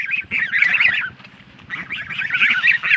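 A flock of geese honks loudly and close by, harsh overlapping calls in two bursts separated by a brief lull.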